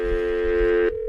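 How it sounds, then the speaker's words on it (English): A telephone rings in a radio studio: one steady electronic ring tone that cuts off near the end, leaving a faint lower hum, close and clear with no talk over it. "So speaking of the phone ringing, here we go."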